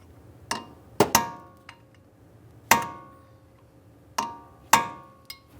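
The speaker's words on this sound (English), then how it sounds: "We'll continue with our hammer and punch, drive this down and in." A hammer drives a punch against the axle nut on a 2006-2012 Ford Fusion front wheel bearing job, peening the nut into the axle shaft slot: about eight sharp metallic clangs in irregular bursts, close and ringing, with no talking.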